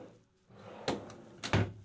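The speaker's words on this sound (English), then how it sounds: "You've got a drawer." A vanity drawer in a travel trailer bathroom slides and thumps shut, giving two sharp knocks close by after a brief rustle.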